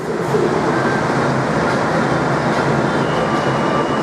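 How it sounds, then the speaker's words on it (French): A Bangkok metro train runs at a station platform with a loud, continuous rumble and a steady roar of rolling stock that holds throughout, with no voices. "Et voici une rame de métro."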